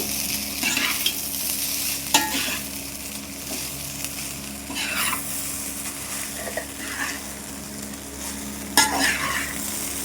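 Chicken fried rice with sauces sizzles in a hot pan while a utensil stirs and scrapes through it in repeated strokes, close and steady, with no talking.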